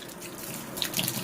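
Water poured from a tap to mix into a few handfuls of grain flour for a thick dough, a steady quiet running trickle with a slight splash toward the end.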